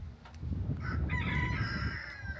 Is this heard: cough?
no